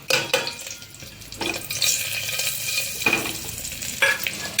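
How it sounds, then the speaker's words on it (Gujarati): Whole dry spices (cloves, cinnamon, black peppercorns, cardamom and bay leaf) drop into hot oil and are stirred: a continuous loud sizzle broken by several sharper hissing bursts and spoon scrapes. "હવે આપણે બધા સૂકા મસાલા નાખી દઈશું. લવિંગ છે, તજ છે, પછી તીખા છે, એલસી ને તમાલપત્ર નાખી દઈશું."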